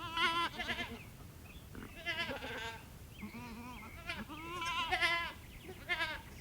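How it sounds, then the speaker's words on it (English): Several farm goats bleat repeatedly out in a field, with overlapping wavering calls near and far over steady outdoor background noise and no talk. "Come on, goats!"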